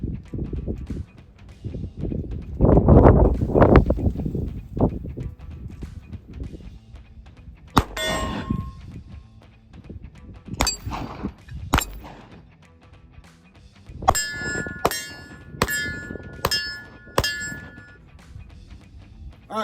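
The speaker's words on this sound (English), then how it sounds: "I'm gonna try to hit this steel silhouette target behind me." A SIG Sauer P365 XL pistol is fired at a steel silhouette target about 35 yards away, giving sharp cracks with ringing metallic pings from the steel, spaced irregularly and then in a quicker cluster, after an opening stretch of talk.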